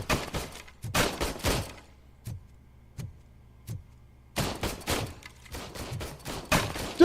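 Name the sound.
gunfire at the shooting range in the RoboCop video game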